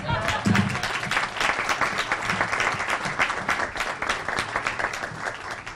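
Steady applause from an audience fills the whole stretch, dense clapping that swells early and continues evenly.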